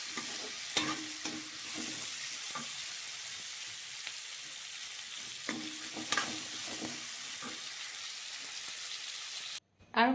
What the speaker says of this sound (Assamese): পিঁয়াজ এটা দি পেলাই নিমখ হালধিকণ দি ধুনীয়াকৈ ভাজিখন ফ্ৰাই কৰি দিছোঁ